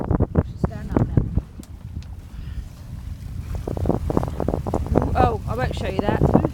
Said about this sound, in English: And it's very windy. Probably all you can hear is wind.